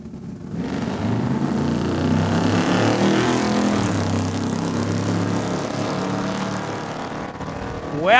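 A drag racing car makes a pass at Saskatchewan International Raceway in Saskatoon: a loud, sustained engine roar fills the whole stretch, with no voices over it.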